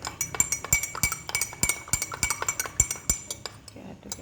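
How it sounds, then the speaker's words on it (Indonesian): A spoon stirring honey into a herbal cough drink made with kencur, rapid repeated clinks of metal against a glass ringing out close and bright in quick irregular succession. "aduk kayak gini udah bisa diminum"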